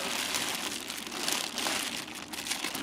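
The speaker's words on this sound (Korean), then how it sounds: "이렇게 비닐봉지를 너무 오매지 마시고 헐렁하게 매주세요." Plastic bag crinkling steadily as it is loosely tied around warm cooked soybeans for homemade doenjang, a close, continuous rustle for about three seconds with no speech.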